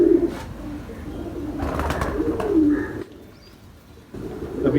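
Flying pigeons in a breeding loft coo in repeated low, throaty calls, fairly close, with faint chirps and soft rustling between them and a short quieter lull near the end.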